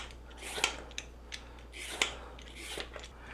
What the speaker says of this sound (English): Nice thing about a simple vegetable peeler like this, it makes this job quick and easy.